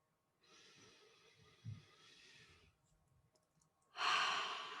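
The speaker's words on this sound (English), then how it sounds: "now if you take a deep breath with me" A slow, deep breath taken during a guided meditation, a long soft airy inhale followed by a quieter stretch and then a louder, breathy exhale, close and with no talking.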